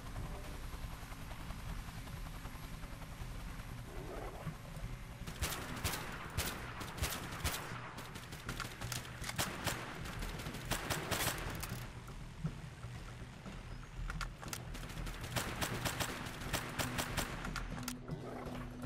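Sustained gunfire in Global Outbreak Doomsday Edition, set in an urban area, with dense rapid shots clustering over a steady rumbling background and coming in waves across the stretch.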